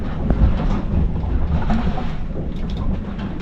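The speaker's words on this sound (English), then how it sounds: "It's 2:30 in the morning and we're getting hit by our first Coramel wind, which is a localized wind to this area." Strong localized Coramel wind buffeting a sailboat at night on the Sea of Cortez, Mexico, a loud, continuous roar with gusty rumble close to the microphone and no talking.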